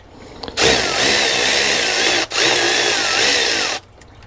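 A Milwaukee M12 Fuel 2557-20 ratchet breaking a nut loose, two loud sustained motor whirs of about one and a half seconds each, separated by a brief pause, close up.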